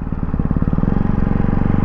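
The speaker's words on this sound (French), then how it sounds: "j'ai déjà des retours à l'échappement" Ducati 698 Hypermotard single-cylinder engine running close and loud at steady revs during break-in, with a rapid pulsing exhaust note and irregular pops and crackles from the exhaust.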